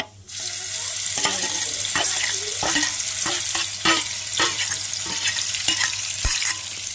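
Prawn gravy masala with ginger and garlic sautéing in a pan, a continuous close sizzle broken by repeated scraping and stirring strokes.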